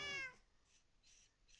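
A cat meows in a video game, with one loud, clear, high cry at the start followed by faint, quieter game ambience.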